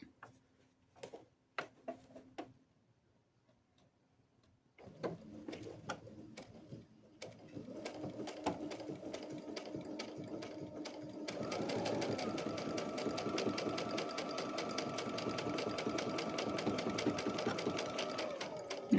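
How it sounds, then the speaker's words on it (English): A sewing machine runs a straight stitch along bias tape. A few short start-stop bursts and quiet clicks come first, then a steady rapid whirring that grows louder and continues to the end. "I've taken my machine back to my straight stitch"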